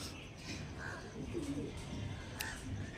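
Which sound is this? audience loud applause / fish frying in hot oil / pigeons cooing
pigeons cooing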